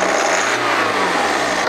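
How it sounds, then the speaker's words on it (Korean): The engine of a BMW 5 Series revs as the accelerator is pressed, a loud, close roar whose pitch rises and then eases back, heard alone without talking. "악셀 한번 밟아봐."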